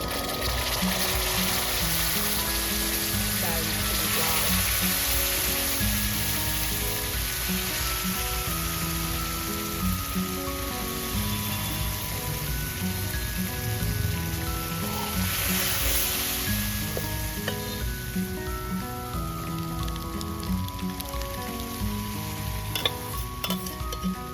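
Papdi beans sauté in a pan for Gujarati adad dal, giving a continuous close frying sizzle with occasional stirring scrapes under steady background music.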